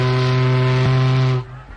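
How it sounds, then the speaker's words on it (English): A ship's steam whistle blows one loud, sustained chord of harmonic tones for about 1.4 seconds, wavering briefly midway, then cuts off sharply and leaves a faint hiss. "this works the whistle"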